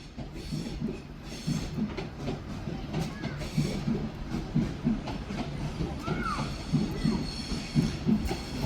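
A TransPennine Express class 397 electric unit bound for Edinburgh Waverley pulls into a Manchester Piccadilly platform, with rhythmic wheel clatter over rail joints, a low rumble and faint brake squeals close by.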